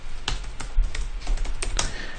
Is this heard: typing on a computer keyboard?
yes